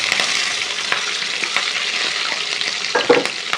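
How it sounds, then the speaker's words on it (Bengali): Chopped onion and green chilies hit hot oil in a pan, producing a loud, dense, close sizzle with brief stirring scrapes and a small clatter near the end, no voices. "আমি এই যে এইদিকে পেঁয়াজ কুচি আর কাঁচা লঙ্কা দিয়ে দিলাম"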